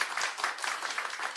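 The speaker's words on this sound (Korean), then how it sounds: "모두 큰 박수 부탁드립니다." A crowd at a People Power Party event honouring Chilgok police investigators gives brisk, continuous applause, a dense even wash of clapping heard on its own.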